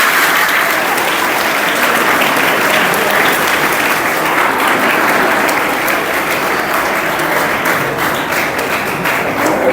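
Loud, dense applause from a large school audience at a donation event, a continuous wash of many hands clapping close by with no let-up.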